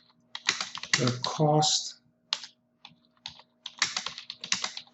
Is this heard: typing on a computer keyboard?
yes